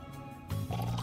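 Rising water flooding through the game Craft the World, a short burst of liquid squishing and gurgling that swells up halfway through, close and fairly soft.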